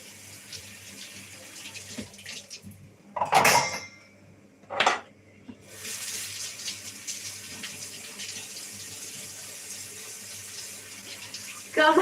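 Running tap water splashes into a sink with a few louder gushes as dishes are rinsed, steady and close, with no talking.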